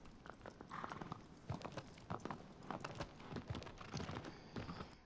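Horse hooves clip-clopping in the video game Shadow of the Colossus, a rhythmic trotting beat of sharp hoof strikes, fairly faint and continuous with no talking.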